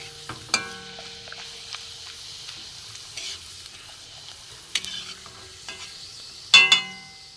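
Boiled potato papad fries in hot oil on a low flame, a soft steady sizzle broken by sharp crackles and stirring clinks, the loudest flare near the end.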